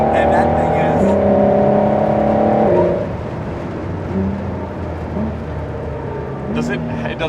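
A Ford GT drives fast around a track, its engine note loud and steady for the first few seconds and then fading farther off, with people talking over it.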